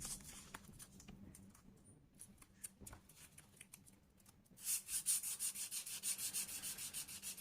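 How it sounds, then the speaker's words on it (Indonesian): Sandpaper of 500 grit rubbing along a beveled leather edge, light unpressed strokes; scattered soft scrapes first, then a steady run of quick, evenly paced rasping strokes up close. "bagian edge-nya ini dengan amplas 500 yang pertama."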